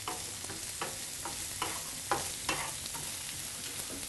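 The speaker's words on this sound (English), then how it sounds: "we start off with our ingredients and sauteing them in the pan" Celery and onions sauté in a pan for a raisin Thanksgiving stuffing, a soft steady sizzle broken by repeated spoon scrapes and stirring taps at a fairly even rhythm.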